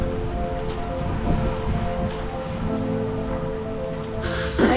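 Steady rain patters on the surroundings near Seward, Alaska, a continuous close wash of drops and rustle, with a brief louder splash or rustle at the end and no voices.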